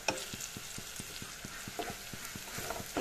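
Spices are stirred in a frying pan while cooking a small fish curry, with salt, turmeric and chili powder in the mix. A steady scraping rhythm of regular spoon strokes sits over a soft background sizzle, close and moderately loud, with no talk.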